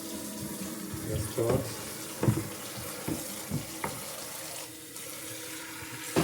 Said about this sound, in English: The easiest way is just put it into the kitchen sink. And make sure it's cold water.